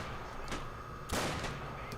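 Standard rifle shots in a Robz Mod tournament match, with one sharp, fairly loud crack standing out over a steady background hum and a couple of fainter distant shots on either side.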